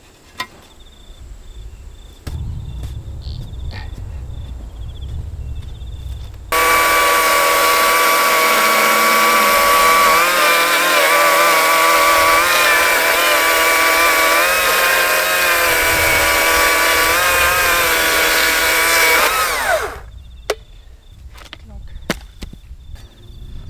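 A chainsaw cuts into wooden corner posts for a traditional Australian bark hut out in the bush, a loud steady whining roar for about thirteen seconds. Quiet bush ambience with insect chirps comes before and after the cut.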